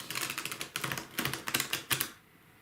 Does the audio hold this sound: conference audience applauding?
no